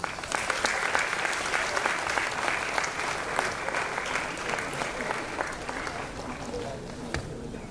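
A hall full of people claps for a silver medalist honored for academic excellence at a management institute convocation, dense continuous applause sustained throughout at an even level.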